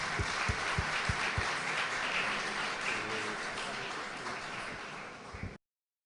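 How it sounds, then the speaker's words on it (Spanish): Audience applause after a speaker's talk at a presentation event, a dense, steady wash of clapping lasting several seconds with a few sharper low thumps early on, ending abruptly. "Un aplauso fuerte, por favor."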